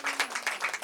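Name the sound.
audience applause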